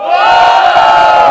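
A loud crowd roars and cheers together at a Brazilian street rap battle semifinal in São Gonçalo, a sustained dense wall of shouting voices.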